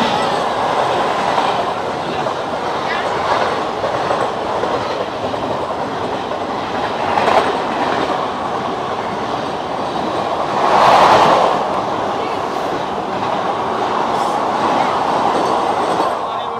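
Shalimar–Lokmanya Tilak Terminus Express, train number 18030, rolling past in India with a steady, continuous rumble of rail wagons and faint clickety-clack, a louder surge near the middle, no voices.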